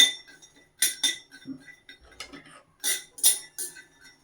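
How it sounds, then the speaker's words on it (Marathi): Pistachios dry-roasting in a pan, with bursts of dry rattling and clinking as the nuts are stirred and tossed against the metal, separated by quiet pauses. "पिस्ते आपण थोडंसं, जास्त वेळ लागत नाही याला भाजायला, थोडं आपलं मिनिटभर फक्त थोडंसं भाजून घेणार आहोत."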